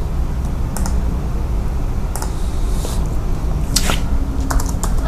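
Typing on a computer keyboard in the Cinnamon desktop environment: scattered, irregular keystrokes, some in quick clusters, sit over a steady background hiss.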